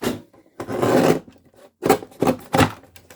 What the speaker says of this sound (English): And this Tim Holtz trimmer does a pretty good job.